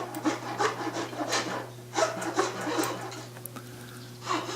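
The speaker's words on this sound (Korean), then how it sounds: "반원줄로 다듬어 줍니다." Half-round file rasping a wooden ukulele neck, with uneven rubbing strokes repeating across the span, close and moderately loud, with no talk.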